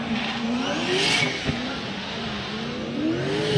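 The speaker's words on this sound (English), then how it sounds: "Got another vehicle just making a bunch of crazy noises." A drift car engine revving hard and rising and falling in pitch, loud and close, with a brief tire squeal, during Formula Drift qualifying in New Jersey.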